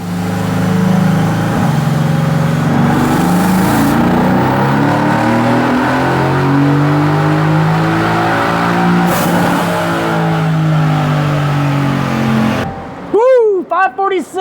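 An AMG M177 engine revs hard on a dyno in a long, loud, sustained pull as the pitch climbs steadily, then cuts off into a few sharp pops and crackles at the end.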